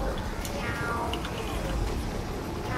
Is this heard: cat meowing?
yes